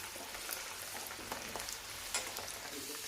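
Garlic and dried red chilies fry in oil for mutton pickle, giving a steady, soft crackling sizzle with faint scattered pops throughout.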